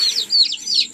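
Young chicks in a brooding setup warmed by a bulb peep continuously, with shrill, rising chirps overlapping in a close, lively chorus.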